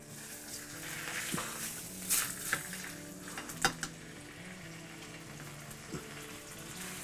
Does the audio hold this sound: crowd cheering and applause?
no